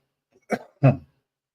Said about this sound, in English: I'm going to cough here